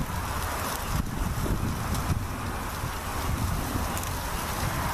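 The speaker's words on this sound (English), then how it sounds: "I apologize for the road noise." A steady, continuous roar of passing traffic on a nearby main road with a deep rumble underneath, unbroken for the whole stretch, no voices.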